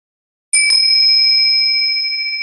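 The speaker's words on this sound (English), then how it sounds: "Ring the bell." A single bell struck once in a quiet room during a mindfulness meditation, its sharp strike settling into a clear, sustained ring that fades only slowly while no one speaks.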